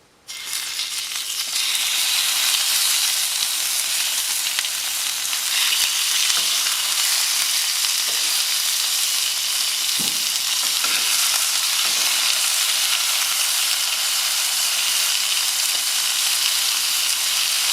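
Seasoned cero mackerel fillets sizzle loudly in a hot pan. A sharp onset leads into a dense, steady frying hiss that continues without voices, broken now and then by faint clicks.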